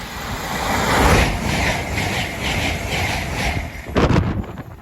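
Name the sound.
train passing at speed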